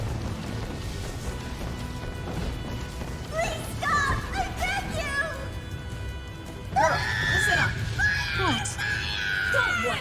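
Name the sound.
screaming battle cries in video game Drakengard 3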